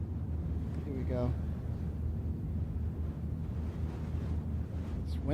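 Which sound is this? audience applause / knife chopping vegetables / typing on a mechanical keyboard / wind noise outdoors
wind noise outdoors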